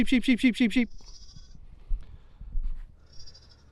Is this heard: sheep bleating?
yes